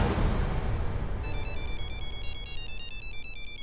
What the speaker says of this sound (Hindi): हमारे पति का ही फोन है